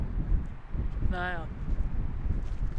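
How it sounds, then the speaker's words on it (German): Blustery mountain wind in the Himalaya buffets a microphone, a steady low rumble under a brief spoken word and a short melodic tone midway. "Bisschen windig ist es, aber sonst ein Traum"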